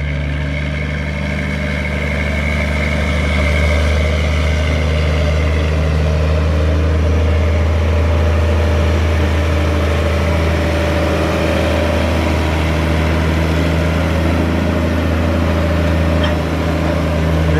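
A tractor-pulling truck idles through its muffler at a pulling track, a steady loud low rumble with a constant drone that holds throughout without pause, heard alone with no talk.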